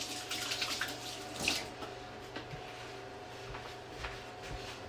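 Hands washed under a running kitchen tap during home baking: a soft, continuous stream of water with light splashes and a few small knocks, fairly quiet and without talk.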